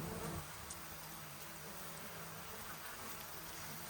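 Honeybees buzz while moving into a hive box after being rehomed from a water box: a faint, steady, close-range hum with scattered rustling over a quiet background.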